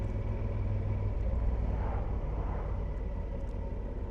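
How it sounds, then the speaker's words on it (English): A rally car passes close behind a motorcycle, its engine a steady low rumble under constant road and wind noise, swelling slightly midway before fading. "there is a rally car just behind me"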